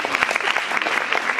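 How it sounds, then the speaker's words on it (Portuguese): A lecture audience bursts into brief, dense applause, close and lively, rapid overlapping claps filling the short moment. "Uma salva de palmas."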